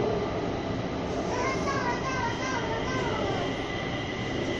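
A green three-car Kaohsiung MRT metro train on the orange line runs from Sizihwan toward Formosa Boulevard, its steady broadband rumble and rising and falling whine filling the ride with no break.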